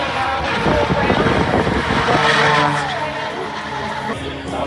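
Supercars slide and race at an airshow, engines roaring loudly with tyre squeal and revving up close, an announcer's voice over the top.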